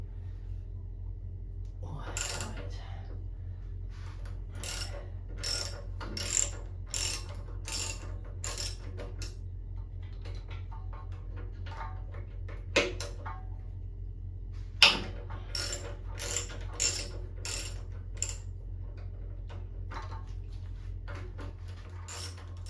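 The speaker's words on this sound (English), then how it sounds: "So let's start unbolting and see what happens. So I'm using a 1/2-inch wrench." A 1/2-inch wrench ratchets off the petrol tank bolts on a 1997 Harley-Davidson Heritage Classic, giving close bursts of quick metallic clicking in several spaced runs over a steady low background hum.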